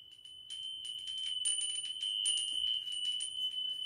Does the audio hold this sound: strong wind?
no